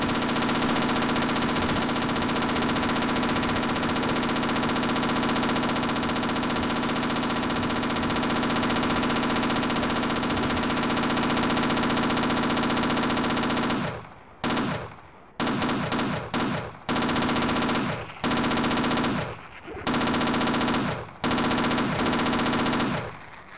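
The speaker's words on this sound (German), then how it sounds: "Sowas davon drauf ausgelegt, dass ich das Geschütz benutze." Mounted gun turret in Half-Life firing a long, unbroken loud burst for about fourteen seconds, then several shorter rapid bursts separated by brief pauses, close and dominant.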